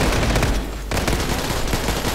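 Rapid automatic gunfire in a Call of Duty-style hardcore shooter game, loud and dense bursts with a short lull midway before the firing resumes.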